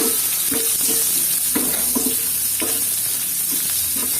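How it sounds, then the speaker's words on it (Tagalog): Onions sauté in hot oil for Filipino pork adobo, a steady loud sizzle broken by rhythmic scrapes and taps of a spatula stirring in the pan, close up with no talking. "Gisa na natin. And then, next na natin yung ating sibuyas."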